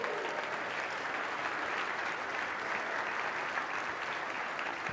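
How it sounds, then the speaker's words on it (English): A large SAINTCON 2022 conference audience applauds a keynote speaker taking the stage, a dense, steady, even wash of clapping that holds at the same loudness for the whole stretch, with no voices standing out. "A round of applause, Snow."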